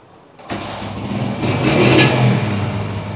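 A 1983 Honda 125 motorcycle engine revs up after starting, a steady mid-pitched roar that swells and holds loud and close, with no talk over it.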